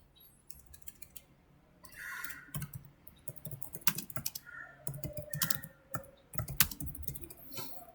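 Rapid typing on a computer keyboard while writing code, irregular bursts of close, crisp key clicks with short pauses between, no talk.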